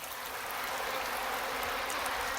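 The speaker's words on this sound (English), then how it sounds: "The fountain becomes a spring of wild water." Water rushing and splashing in a steady, bright hiss, like a spring flowing close by, unbroken for a couple of seconds.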